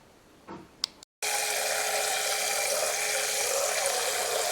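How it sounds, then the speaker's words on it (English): Tap water gushing into a cooking pot while preparing susumba gully bean seasoned rice with pigtail: a few small clicks and knocks, a brief hush, then a loud, steady, continuous rush of pouring water close by. "then catch some water in the pot"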